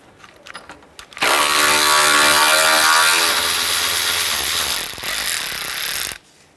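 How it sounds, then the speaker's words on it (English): A ratchet clicks steadily while loosening the 10 mm bolts that hold the condenser on a 2003–2011 Honda Element. The loud, close mechanical whirring runs for about five seconds and then stops abruptly, with no talking. "Now we're going to remove the two bolts holding our condenser in place, one on each side."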